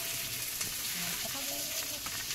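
Fish frying in hot oil in a home kitchen, a steady close crackling sizzle running evenly throughout without pause.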